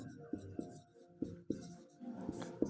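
A word is written on a board during a Sanskrit grammar lesson, heard as close, distinct strokes and taps in short irregular bursts. A quiet room sits between the strokes, with a faint voice in the background.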